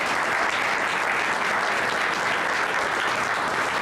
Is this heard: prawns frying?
no